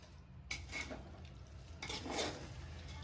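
A spoon stirs vegetable biryani rice in a pot, two quiet scraping strokes against the bottom with a faint sizzle under them.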